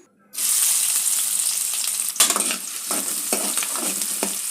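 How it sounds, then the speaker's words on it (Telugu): Onions sizzling in hot oil in a pan, a loud steady crackle starting abruptly, with intermittent scraping clatter of stirring over the frying. "కొంచెం ఆయిల్ వేసుకున్నాను ఇప్పుడు దీంట్లో ఉల్లిపాయలు వేసుకున్నాం"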